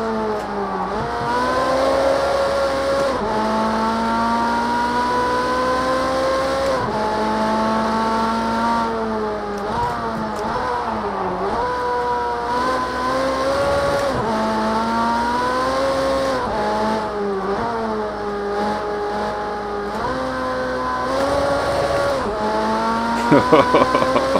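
A Ferrari Special A race car driven hard around the Bannochbrae circuit in Project CARS 2, its engine holding a steady high whine that climbs and dips through gear changes and corners across the lap, loud and close throughout, with no voices.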